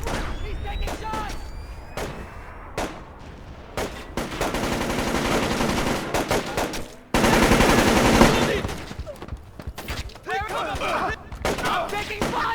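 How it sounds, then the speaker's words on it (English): Video game gunfire from Splinter Cell Chaos Theory: sustained loud automatic bursts and heavy impacts roll on and off through a combat scene, with shouted game dialogue mixed over the shooting. "I'm taking fire!"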